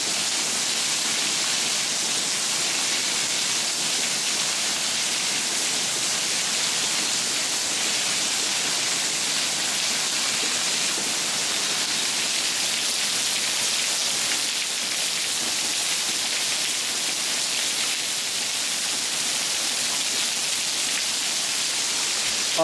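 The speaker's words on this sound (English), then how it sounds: "The storm is just pouring down heavy like crazy." Sudden heavy rain storm pouring down at night, a loud, dense, unbroken hiss of rainfall drumming on surfaces with no voices.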